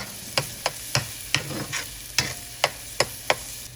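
Diced shallots fry in olive oil in a pan, a soft continuous sizzle broken by about ten sharp, regular stirring scrapes spaced roughly a third of a second apart, close and without speech.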